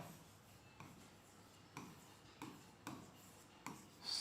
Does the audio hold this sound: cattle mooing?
no